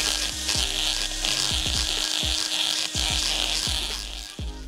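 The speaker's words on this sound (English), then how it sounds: "Right, we've finished the porting from the other side." A grinder ports a Honda CB500 motorcycle cylinder head, close up: a steady high, buzzing whine with a rhythmic series of low, chattering pulses as the bit bites into the metal. No one speaks.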